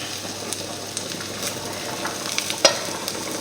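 Mashed potatoes cooking gently in a pan, a soft, steady sizzle with faint bubbling pops and one brief sharper click near the end, close by and without speech.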